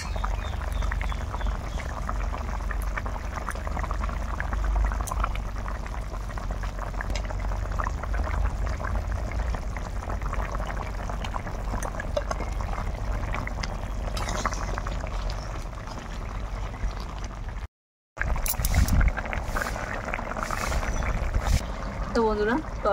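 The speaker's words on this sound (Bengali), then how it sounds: "ঝোল খুব সুন্দরভাবে ফুটে গেছে" A pot of thin rohu fish curry broth with new potatoes and spring onions bubbles steadily, a continuous close simmering hiss throughout with one brief break, and no talk over it.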